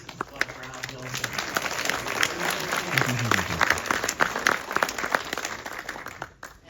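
Applause from a film festival audience, with dense sustained clapping and crowd noise throughout, fading toward the end, while a low voice and music play underneath.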